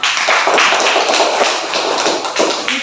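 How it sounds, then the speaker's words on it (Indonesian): A group of children clap their hands together in a classroom, a busy, fairly loud patter of many small claps with a few sharper taps standing out near the end. "Tepuk tangan."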